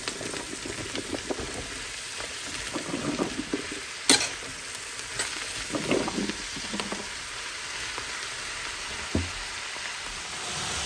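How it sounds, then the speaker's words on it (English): Onions and mushrooms frying over high heat in a pan, a continuous close sizzle with occasional stirring scrapes and a few sharp utensil knocks, no talk. "we're going to add in our mushrooms. You want the heat really high"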